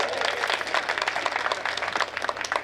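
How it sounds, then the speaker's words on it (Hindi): An audience at a Hindi comic poetry gathering applauds, a dense and continuous patter of many hands clapping at moderate loudness. "थोड़ा सा तालियों का उत्सव करिएगा।"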